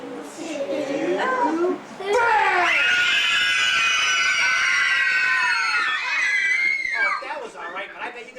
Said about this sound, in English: Scream as loud as you want.